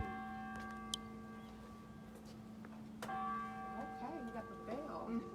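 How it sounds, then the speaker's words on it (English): A bell rings with sustained, ringing tones at a community meeting, heard faintly in the room, with a second strike partway through and voices murmuring over the decaying hum. "Okay, we got the bell."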